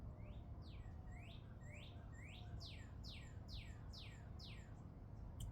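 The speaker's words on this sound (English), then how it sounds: "That's a cardinal." A northern cardinal sings a series of about ten repeated downward-slurred whistled notes, faint and somewhat distant over a steady low background rumble.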